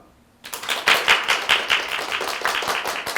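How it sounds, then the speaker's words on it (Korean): Forum audience clapping to welcome the host announcer, bursting in after a quiet moment with distinct, fairly sparse claps that settle into a steady patter. "이 따뜻한 박수를 받으니까 기분이 너무 좋네요"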